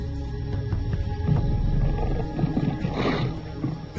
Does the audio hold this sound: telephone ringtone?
no